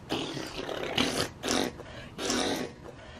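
A voice imitates wind buffeting a microphone, making three rough, breathy bursts of noisy rumble with short gaps between them, close and moderately loud.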